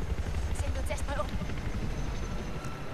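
Helicopter in the video game Battlefield 4, a steady rotor drone under a player's voice talking throughout.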